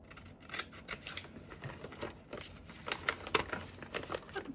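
Scissors snip through mail paper in repeated crisp cuts, close and fairly quiet, with light paper rustling between the snips and no talk.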